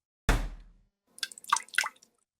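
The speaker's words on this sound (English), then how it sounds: "followed by the dripping of water onto linoleum" Water drips onto linoleum in a quiet kitchen: one heavy splat, then a short run of three or four lighter, close drips after a pause, with nothing else audible.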